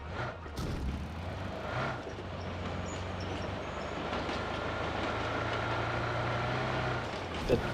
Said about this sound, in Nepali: त्यत्तिकै कुदिर आउँदो रहेछ ट्रेन